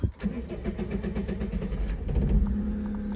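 A 25-year-old Mitsubishi Townbox kei van cranks with a sharp whirring burst, catches, then settles into a close, steady idle that rises slightly toward the end.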